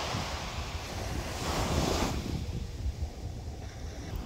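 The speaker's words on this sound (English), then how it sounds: "It's super windy, but there is lightning happening off into the sea" Strong wind at a seaside beach during a lightning storm roars into the microphone over crashing surf, loud and continuous with a surge in the middle, with no one speaking.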